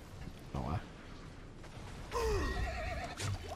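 A horse whinnies twice in the video game Diablo IV, the second call longer and wavering, with mechanical creaks and clatter around it.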